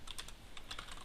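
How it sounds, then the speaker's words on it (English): Fast, uneven typing on a computer keyboard, a steady run of close, crisp key clicks with no one talking. "my typing is horrible"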